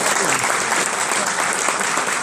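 A round of applause for gubernatorial candidates at a realtors' forum, a short burst of dense, loud clapping from the crowd filling the whole moment.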